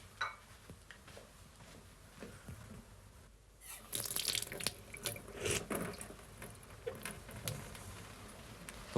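A kitchen water tap runs, starting after a few seconds of quiet room sound with soft clicks, then a splashing, hissing flow into the sink that stays moderately loud to the end.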